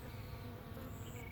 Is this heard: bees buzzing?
yes